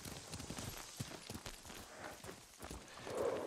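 Horses' hooves during riding in the video game Ghost of Tsushima, a steady rapid clip-clop of several animals over a rumbling, noisy background.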